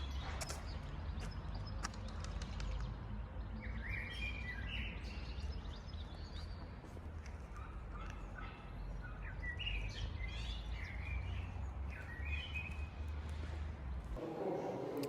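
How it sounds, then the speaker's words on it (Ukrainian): Birds chirp and sing in bursts in an oak tree against a constant low background rumble, the calls coming and going throughout. "Ох, і пташки ж тут співають на цьому дубі."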